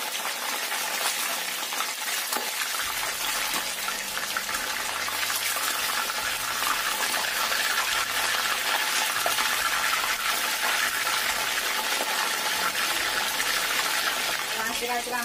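Fish fries in a hot pan with a steady, loud sizzle as the pieces are turned over, and faint scraping and clatter come through the continuous crackle.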